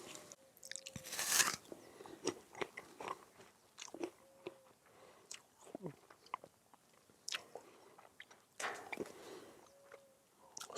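Someone bites and chews a fresh apple on a Russian farm: crisp, crunchy bites followed by steady, close chewing, fairly faint.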